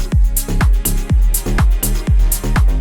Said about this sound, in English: But they're really nice, really lush sounding strings